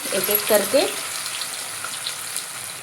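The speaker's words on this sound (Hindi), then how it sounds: "अब मैं करत हूँ डीप फ्राई" Idhar, colocasia leaf rolls, deep frying in hot oil give a steady close hiss and crackle, with a brief voice near the start before the sizzle carries on alone.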